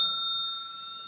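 A single small bell rings once to mark speaking time in a debate, a bright clear ding that decays slowly and rings on alone in a quiet room.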